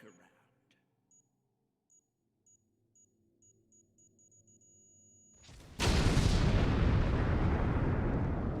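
A loud explosion erupts in the Star Trek Online video game and rolls on as a sustained roar, following a quiet stretch of faint electronic beeps and low hum.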